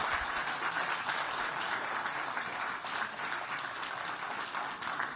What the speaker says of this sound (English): Well-deserved applause.